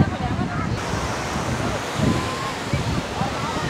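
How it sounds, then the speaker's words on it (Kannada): Steady roar of high surf at Panambur Beach, Mangalore, with broad, rolling wash, close and fairly loud, with gusts of wind buffeting the microphone throughout. "ಅಲೆ ತುಂಬ ಜಾಸ್ತಿ ಉಂಟು"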